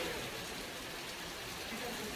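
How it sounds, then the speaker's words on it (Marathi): Rain falling outdoors, a soft, steady patter of drops hissing evenly at a distance, faint and unbroken throughout. "पाऊस येत आहे ना"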